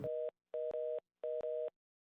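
A phone-network unreachable signal plays as a clean electronic tone in short, evenly spaced beeps, some doubled, separated by silence and heard alone without speech.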